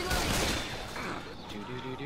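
Rapid gunfire from Left 4 Dead 2 zombie combat, a dense continuous burst of shots layered with game effects and speech throughout.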